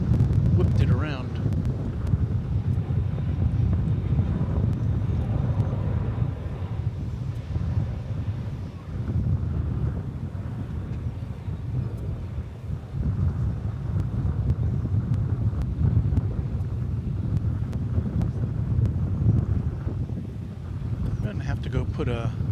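Strong gusting wind buffeting the microphone at a DFW Airport plane-spotting spot, a loud continuous rumbling roar with rising and falling surges throughout.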